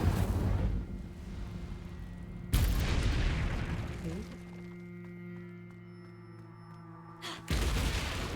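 Incendio fire spell cast in Hogwarts Legacy, sudden booming bursts of flame at the start and again near the end, loud and close over a sustained game soundscape with tonal hums.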